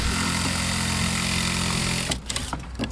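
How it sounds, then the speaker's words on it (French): A power drill bores through a concrete floor slab for a plumbing drain, a loud, steady grinding whine that runs for about two seconds and then stops, leaving a few irregular knocks and handling noises. "On va percer le deuxième"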